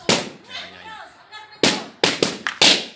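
Firecrackers going off at a New Year 2023 celebration in Kuwait: a sharp bang, then after a pause several close, loud cracks in quick succession, with a voice speaking between them.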